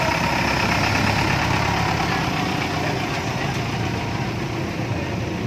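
A motorcycle engine idles close by with a steady, loud, low rumble and constant mechanical vibration, no speech over it.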